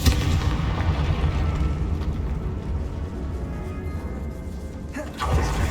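A Confringo blasting-spell explosion in Hogwarts Legacy, heard as a deep, sustained rumbling roar with a sharper burst near the end.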